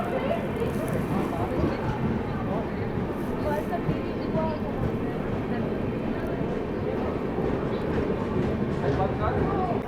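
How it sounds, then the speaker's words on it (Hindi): Shramjeevi Express arriving at Danapur Junction behind a WAP7 electric locomotive, a steady loud rumble of rolling train wagons filling the whole stretch, with station crowd noise and voices mixed underneath. "फाइनली अपनी गाड़ी की अराइवल हो रही है WAP7, तुगलकाबाद स्टेट का WAP7 लोकोमोटिव आज लीड कर रही है"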